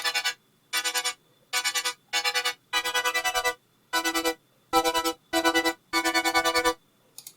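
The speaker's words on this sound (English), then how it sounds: "there's this one wavetable here that is called debussy" A Serum synth plays the debussy wavetable as a bright, harmonic, chord-like tone in short repeated bursts separated by silences, each note sustained briefly and sounding clear and close.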